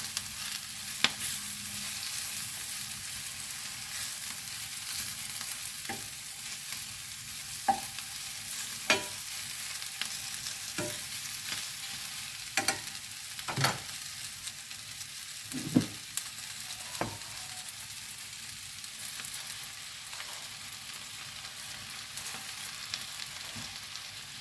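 Spinach stirred gently in a hot pan, a long steady sizzle with scattered scrapes and clinks of the utensil at uneven intervals, close and moderately quiet, with no voices.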